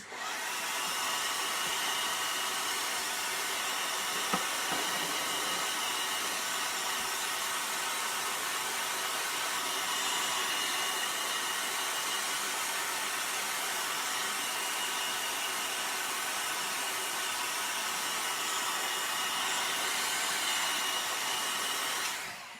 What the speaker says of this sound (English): let me blow dry this before I touch it.